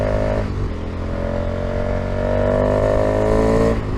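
A 2021-or-later KTM Super Adventure S motorcycle fitted with a DNA airbox, engine held at steady high revs with loud, dense induction and exhaust roar and a slight rise near the end, heard up close with no talk.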